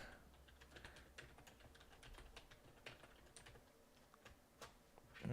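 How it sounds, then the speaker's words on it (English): Steady typing on a computer keyboard with irregular clusters of key clicks, fairly quiet and close, with a soft background hum and no talking. "I gotta type something out here."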